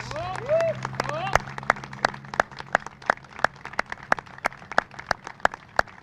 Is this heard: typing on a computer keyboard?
no